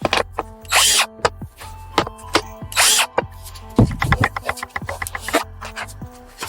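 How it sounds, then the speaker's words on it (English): Power drill driving screws into the wood of a homemade ultralight thumb box, with short whirring bursts separated by pauses, clicks and handling knocks, close by. "So all I'm doing here is tightening it so that these screws become more flush"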